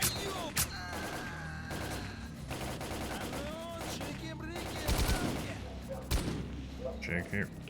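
Gunfire in STALKER: Clear Sky, a continuous mix of shots, rattling bursts and scattered sharp cracks over a busy, noisy background, with a few louder reports standing out.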